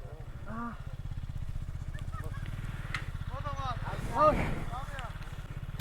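A motorbike engine runs steadily close by with a low throbbing drone on a road near the Jadukata River and the Meghalaya hills in Sunamganj, Bangladesh, while voices talk over it throughout.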